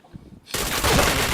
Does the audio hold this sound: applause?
no